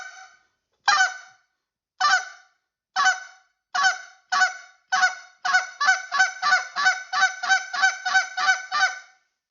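A goose call used for goose hunting honks in short, sharp notes, sparse at first and then sped up into a fast, steady run of repeated honks, close and loud with no talking.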